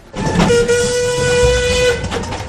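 A miniature steam train runs on a mile-long garden railway in Oxfordshire, blowing a sustained tonal whistle close by for about two seconds over the rumble of the running locomotive and wagons.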